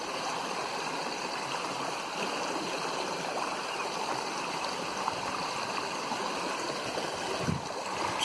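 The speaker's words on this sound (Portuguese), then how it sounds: "Vou chegar perto dessa cachoeirinha aqui" A small waterfall on a stream pours in a constant, full rushing splash, close and steady throughout with no voices.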